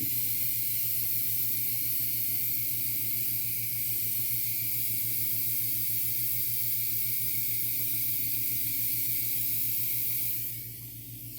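An airbrush mists paint onto a 1/4 scale figure sculpt with a steady, close hiss that runs unbroken for about ten seconds and then tapers off. A low mechanical hum from the compressor sits underneath.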